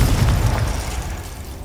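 A Confringo fire spell bursts in the Hogwarts Legacy video game, making a loud, close booming explosion that rumbles briefly and then decays.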